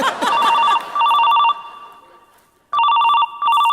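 A telephone rings loudly in repeated bursts of an electronic trill, stopping for about a second and then starting again, with a brief voice heard at the start.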